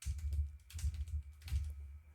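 A computer keyboard shortcut is pressed while working in FL Studio 25, giving a few close, crisp key taps in quick succession against a quiet room.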